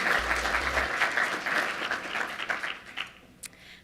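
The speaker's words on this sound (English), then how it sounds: "Please give a round of applause for Hannah Peltier." An audience at a Les Turner ALS Foundation talk on grassroots social media claps for speaker Hannah Peltier, a steady burst of close applause that thins out and fades near the end.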